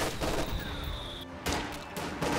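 Rifle fire crackles in a dense, continuous volley in Company of Heroes 2, a World War II strategy game, with rapid overlapping shots under steady battle noise and brief gaps, no voice.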